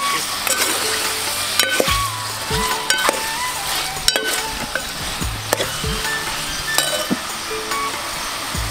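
Chicken pieces frying in oil in a pot for chicken korma, a dense steady sizzle and crackle with occasional metallic clinks of a spoon against the pot, close up and without speech.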